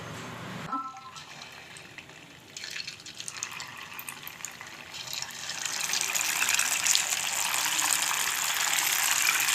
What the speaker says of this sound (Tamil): இந்த வெண்டைக்காய் 10 நிமிஷம் ஆயிடுச்சு. பொரிச்சு எடுத்துடலாம்.